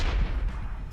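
Dynamite blast in the video game Ride to Hell: Retribution, a dense booming rumble that rolls and churns for a second, loud and close, with no talk over it.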